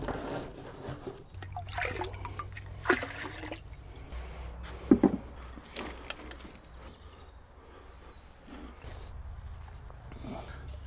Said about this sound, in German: Die muss ich gießen, die sind arg trocken.